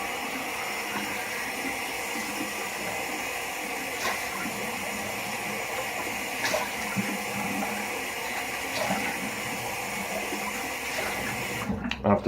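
Cold water pours steadily from a tap, a continuous close hiss and splash with small bursts of splashing, ending in a clatter.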